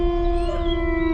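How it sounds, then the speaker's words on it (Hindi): Dogs howling in a long sustained wail, steady and loud throughout, with a dense layered tone like several animals or a siren-like chorus, as a sound effect in a stormy village night scene. "कुत्ते तो ऐसे भौंक रहे थे मानो कयामत आने वाली हो।"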